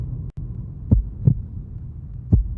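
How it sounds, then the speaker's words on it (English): A single slow heartbeat sound effect following a car crash, three soft, low thumps spaced unevenly over a steady low hum, with no talking. "the music falls out and all we get is a heartbeat"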